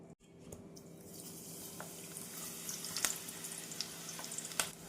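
Pearl millet flour pakoda dropped into hot oil over a medium flame: a steady, moderate frying sizzle with scattered pops and crackles, no talking.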